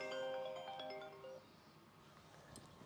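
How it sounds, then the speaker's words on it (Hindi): A mobile phone ringtone plays, a faint melodic electronic chime with a few tonal notes in the first second or so before fading into quiet room background. "अरे अंजलि का फ़ोन"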